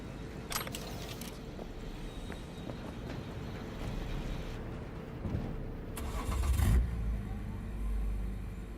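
A car engine starting in Cyberpunk 2077, cranking into a low rumble that swells near the end, with ambient wind noise and a few faint clatters, no voices.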